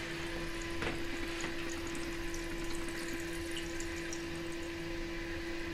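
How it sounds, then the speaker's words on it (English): Water from an Armitage Shanks Sandringham toilet flush rushes and runs steadily, a constant close hiss of refilling with no voices. "Well, 2 more flushes I should say."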